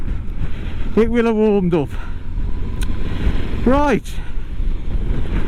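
Steady wind roar buffeting a rider on a Honda Transalp motorcycle, a loud constant rush throughout, with someone talking over it in short phrases.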